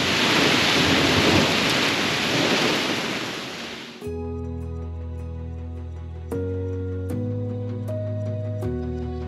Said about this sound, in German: wenn jetzt dieses Unwetter durchgezogen ist, das Wasser richtig durchgewirbelt wurde, der Regen aufhört